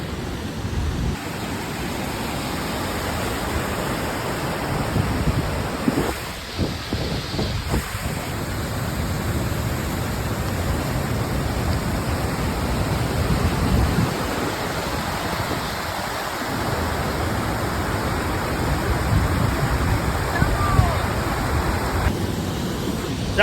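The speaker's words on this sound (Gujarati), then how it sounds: "અમારા ગામમાં 2 દિવસમાં ધોધમાર વરસાદ પડ્યો." Heavy monsoon rain lashes a village in a continuous, roaring downpour, a thick wash of water noise that stays strong for the whole stretch.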